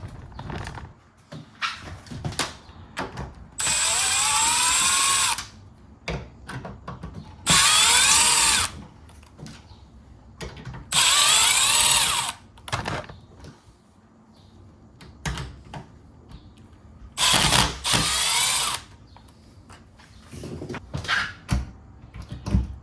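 A power drill backs out screws from an existing door lock and deadbolt, whirring in four loud bursts of a few seconds each, separated by handling clicks and clatter of the hardware.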